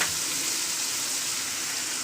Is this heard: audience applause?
no